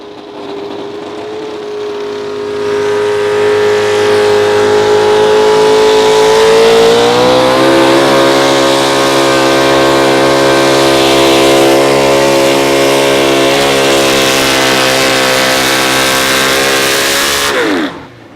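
A Pro Stock 4x4 pulling truck on a new frame roars through a full pull at an Outlaw Pulling event in Wisner, Nebraska, its loud engine climbing in pitch and holding a sustained high-rpm drone before cutting off abruptly.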